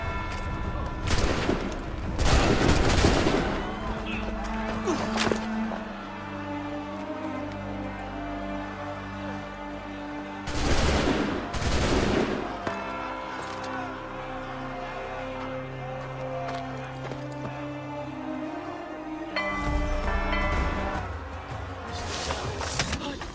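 Musket volleys crash out in Assassin's Creed 3, with three loud, rumbling bursts of massed gunfire spaced several seconds apart over a steady background din.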